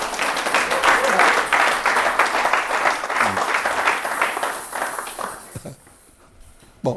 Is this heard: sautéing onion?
no